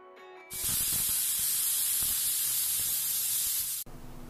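A loud, steady hiss of steam bursts from a pressure cooker on high flame, cooking keema pulao, and rushes continuously for about three seconds before cutting off abruptly.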